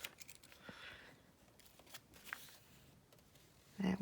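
Scissors snipping a traced paper design out for a journal pocket, a few faint, sparse cuts and paper rustles in a quiet room.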